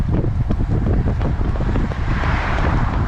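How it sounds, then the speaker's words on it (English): Strong, cold wind buffets the microphone of a cyclist on a group road ride. The roar is low and constant with gusty surges and no voices. "because it's windy and it's cold"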